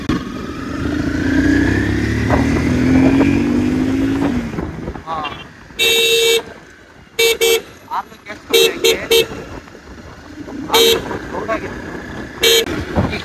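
A CBR 250R motorcycle ridden off-road, its engine rising in pitch early on, followed by a series of loud, short horn toots in bursts over the running engine.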